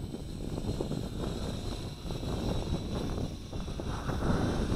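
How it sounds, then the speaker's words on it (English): Steady outdoor wind buffeting the microphone while a Moontop M9916 micro drone is flown on a breezy day, a constant loud low roar that gusts a little stronger toward the end. "Here comes that wind again."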